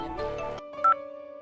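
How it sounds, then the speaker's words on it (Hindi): A short electronic phone ringtone chimes, with a bright tone pattern following a burst of background music, fairly clear and close. "सुजाता का फोन"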